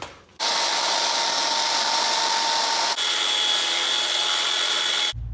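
A loud, continuous power drill grinds steadily through metal for about five seconds while making a driveshaft, with a short hitch partway through before it stops abruptly.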